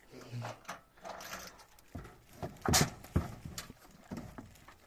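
Percheron horse sounds with hoof clops and snorts amid a busy farmyard during mating of a stallion and mare, with people talking nearby throughout.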